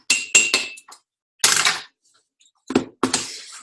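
A teaspoon of baking powder goes into a mug for a protein mug cake, with a handful of bright, sharp clinks and taps of spoon against ceramic separated by short silences.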